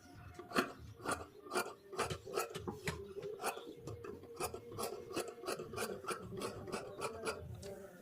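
Scissors trim excess cloth from a blouse back piece in a steady run of close, rhythmic snipping rasps, roughly two cuts per second, with no talk.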